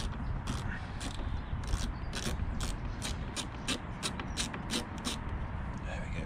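A small T25 screw holding a car fog light is loosened with a ratcheting driver, giving a rapid series of close, crisp clicks over steady background noise.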